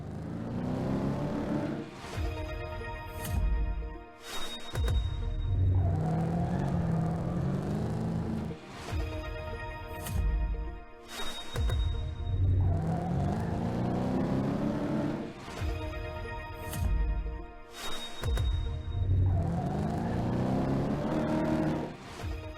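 A BMW M5 engine in the Top Drives racing game revs up in repeated cycles, each rising pitch cut by a shift or lift-off, with no talk over it.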